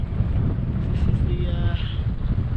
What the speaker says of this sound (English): it is always windy here, funneling between Lhotse and Everest